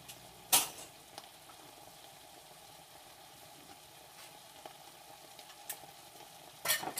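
Carrots and other vegetables stir-frying over high heat for a vegan Thai coconut stir-fry, a soft steady sizzle with a few loud clanks of the pan or utensil near the start and end.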